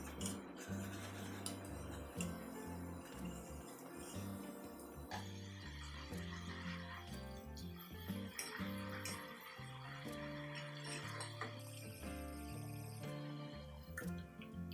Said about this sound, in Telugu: ఇప్పుడు మనం 1 కప్పు పల్లీలు వేసుకొని వీటిని వేయించుకోవాలండి.